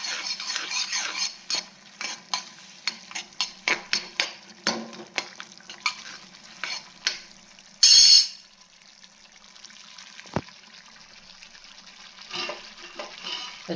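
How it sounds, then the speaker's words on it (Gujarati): Potatoes and tomatoes for sabudana khichdi are stirred in a pan, a series of close scraping strokes over a low steady sizzle, with a brief loud clatter near the middle and a few softer stirs afterward. "બટેકા ચડી ગયા એને ભેગા આપણે ટમેટા નાખી દઈશું અને વચ્ચે વચ્ચે થોડી વાર હલાવતા રહીશું"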